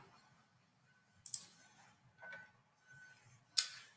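Computer mouse clicks while working in Adobe Premiere, a few sharp, close, isolated clicks spaced across a quiet background.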